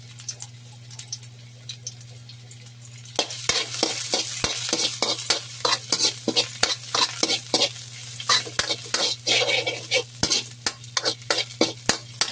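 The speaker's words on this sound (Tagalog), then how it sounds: "Igisa muna natin saglit." Garlic sautés in a pan for pancit guisado, a quiet background sizzle breaking into loud sizzling with repeated sharp scrapes and clacks of stirring, close and steady, no talk.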